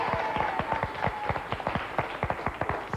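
A French game-show studio audience claps in a brief round of applause in 2003, with a small group's distinct individual hand claps tapping in quick, uneven rhythm, fairly close, for a few seconds.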